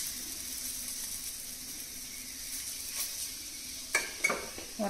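Cabbage paratha sizzles with ghee on an iron tawa, a steady close frying hiss running throughout, broken near the end by a few sharp scrapes and presses of a spatula against the pan.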